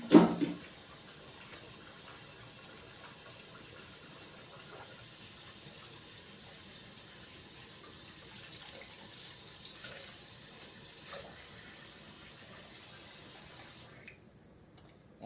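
Homemade liquid laundry soap is poured back into its container in a steady, continuous watery rush that runs close and unbroken for nearly fourteen seconds, then stops abruptly, leaving a faint clunk.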